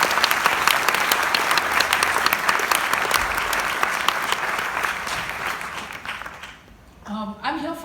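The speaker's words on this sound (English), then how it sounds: "I want to just give him an incredible applause for that" An audience at a book launch event gives sustained, loud applause after a reading, thick dense clapping that fades out before a voice begins speaking.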